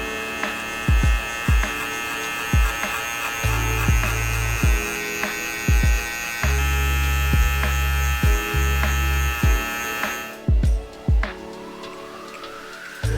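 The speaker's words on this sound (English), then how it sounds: "We set that guideline with our soft trimmer" An electric hair trimmer cuts hair during a haircut, its motor buzzing on and off in short repeated bursts with a couple of longer passes, close and clear, no talking.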